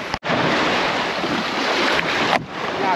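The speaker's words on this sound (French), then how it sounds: "il y a des vagues et tout" Ocean waves wash against a small boat on a ride off the island of Koh Kood, a loud, continuous roar of water and wind rush with a couple of brief dropouts.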